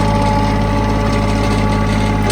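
The small diesel engine of a Bobcat 463 skid steer running steadily at idle, a loud, continuous low throb with a constant rhythm and no pauses or talking.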